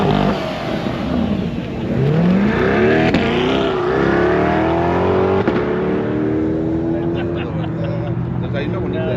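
A Corvette pulls away at a car show drive-off, its engine revving hard and climbing in pitch as it accelerates past, loud and close, with crowd voices talking over it.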